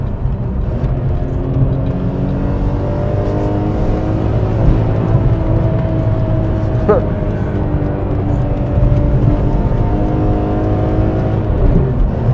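A BMW E46 M3 with Öhlins suspension drives briskly on a road, its engine humming steadily and rising and falling with throttle changes under constant road and wind noise. Someone talks over it throughout.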